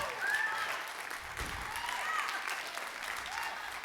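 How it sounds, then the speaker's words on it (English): Church congregation clapping hands during a sermon, a moderate, sustained patter of many hands at an even level, with some voices woven through it. "somebody clap like you're catching this."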